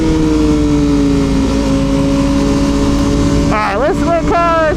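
An Aprilia Tuono V4 1100 Factory motorcycle engine drones loudly on a race track, holding a steady pitch before climbing through quick revving surges near the end, heard under a rider talking.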